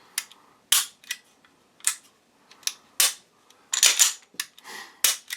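A Walther PD380 pistol being function-checked on a tabletop. Sharp metallic clicks and snaps of the slide and trigger mechanism come in an irregular series, about a dozen distinct clacks close to the microphone, with silence between them.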